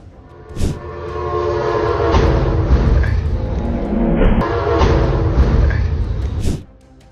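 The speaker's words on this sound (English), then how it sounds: "A train derail after hitting a semi-truck in Yakima County." A train horn blares loudly and close over the heavy rumble of a rail train in Yakima County, at a crossing where a train strikes a semi-truck. The horn sounds in bursts through a sustained roar, then the noise drops off at the end.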